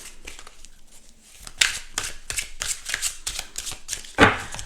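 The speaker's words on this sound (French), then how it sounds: "je remélange le jeu. Je vais vraiment le mélanger beaucoup plus pour qu'il soit bien mélangé" A deck of tarot cards is shuffled by hand at close range, in repeated riffling bursts of crisp flutter with short pauses between, ending in one louder snap.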